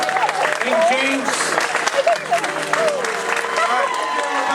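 An audience claps and cheers at a Beatles tribute event in Hollywood, a dense, sustained patter of hands under a speaker's amplified voice talking over the crowd.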